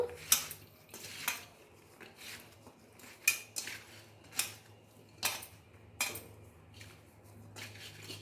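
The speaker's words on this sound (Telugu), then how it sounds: "హాఫ్ స్పూన్ కారం వేసుకుందాం మొత్తాన్ని ఇట్లా మిక్స్ చేసుకుందాము" A spoon clinks and scrapes in a bowl as raw banana pieces are mixed with salt, turmeric and chilli powder, giving about a dozen uneven metallic taps, close and soft.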